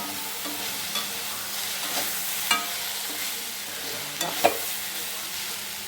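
Okra (lady's finger) fries in a pan with a steady close sizzle, interrupted now and then by the scrape and clatter of stirring, with no talk.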